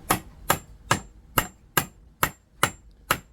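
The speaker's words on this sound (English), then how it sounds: "Now we're going to hammer it." Eight sharp hammer blows strike a screwdriver into wood in an even rhythm, about two per second, each a crisp, close impact on a hard wooden surface.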